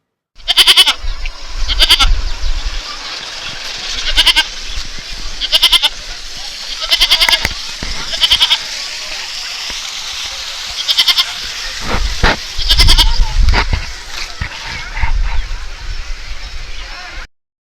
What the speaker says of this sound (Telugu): ఈ యొక్క గొర్రెలు మేకలు కోళ్ళు అమ్మవారికి సమర్పించడం జరుగుతుంది